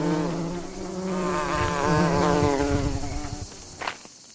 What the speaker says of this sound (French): bourdons et abeilles.